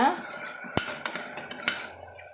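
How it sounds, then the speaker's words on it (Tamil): Chopped tomato sautéing in a pan for fenugreek rice, with a soft sizzle under several sharp scrapes and clinks of a spatula against the metal, close and brief, with no speech. "ஒரு தக்காளி நான் வெட்டி போட்டுக்கிறேங்க வெட்டி போட்டு நம்ம வதக்கி விட்டுக்கலாங்க"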